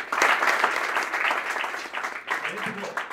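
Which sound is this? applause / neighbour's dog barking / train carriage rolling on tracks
applause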